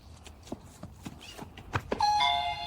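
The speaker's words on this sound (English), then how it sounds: "I tried a young man pressing a doorbell and running away laughing" An electronic doorbell chime rings out clearly toward the end, following a few soft knocks and footsteps, in an AI-generated scene of a young man pressing a doorbell and running off.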